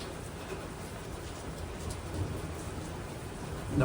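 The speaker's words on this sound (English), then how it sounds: "I see some lightning, so you may hear some thunder" Soft, steady rain falls with a low rumble of distant thunder underneath, fairly faint throughout and swelling slightly at the end.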